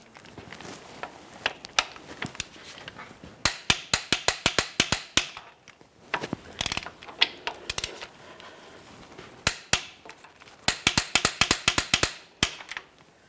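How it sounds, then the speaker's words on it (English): Torque wrench tightening bolts on a 2015-2020 Cadillac Escalade during an oil cooler line job: several close, loud bursts of rapid ratchet clicks separated by short pauses, with a few metallic taps. "Get our torque wrench now."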